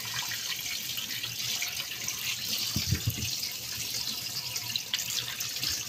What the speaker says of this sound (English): I'm washing the veges I just bought